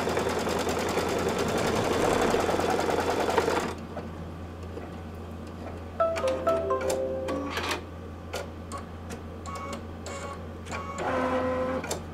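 A Kimberbell Christmas nativity ornament is stitched on an embroidery machine, which runs with a loud, rapid, steady hum for a few seconds, then stops and gives off scattered clicks and beeps.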